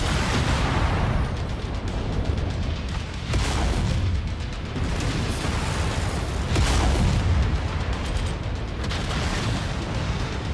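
Mech combat in the MechWarrior 5: Mercenaries video game, a dense continuous barrage of heavy weapon fire and booming explosions with repeated louder blasts, loud and unbroken throughout with no speech.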